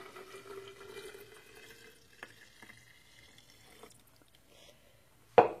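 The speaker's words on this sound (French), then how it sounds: "Donc, je commence par verser le vin." Red wine trickles softly into a closable jar for hypocras over the first two seconds, then quiet follows, ending in a sharp knock.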